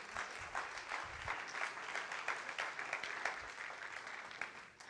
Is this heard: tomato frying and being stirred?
no